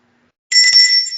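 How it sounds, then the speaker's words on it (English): A bell is struck once after a moment of silence, giving a bright, loud ring close by that sustains and slowly fades. "hit the bell for me"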